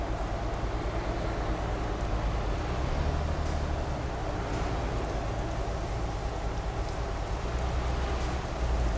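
Steady rain falls in the Euro Truck Simulator 2 video game as a truck drives through an Italian village, a continuous wash of hiss under a low engine rumble throughout.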